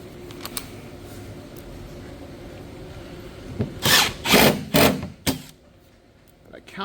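Power drill driving 1-inch screws into a 3/4-inch cabinet panel for a Lazy Susan during a kitchen remodel: several short, loud whirring bursts close by, following quieter background noise and some talk.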